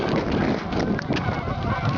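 Geese scared off during a goose hunt in an ice storm, a loud broadband flurry of wingbeats and scattered honks running continuously for two seconds, close and busy.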